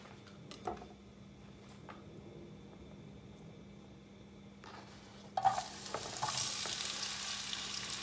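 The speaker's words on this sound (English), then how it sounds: "Put some oil to heat up in my pan, and now I'm going to add the potatoes" Potatoes dropped into hot oil in a pan, a quiet kitchen hum giving way to a sudden, steady broadband sizzle that grows and holds for the last few seconds, with faint clatter early on.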